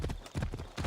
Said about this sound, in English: my favorite pastime was riding the horse for a long distance.